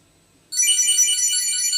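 After a brief quiet moment, a high electronic ringtone from a Chipolo Card tracker starts abruptly and keeps sounding continuously, bright and trilling.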